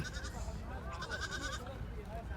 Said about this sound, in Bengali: এই যে দেখতে পাচ্ছেন ছাগল